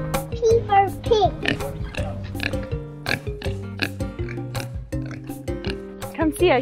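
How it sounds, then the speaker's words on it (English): Pig oinking sounds in short grunting bursts over music, close and clear, with a voice talking. "P for pig."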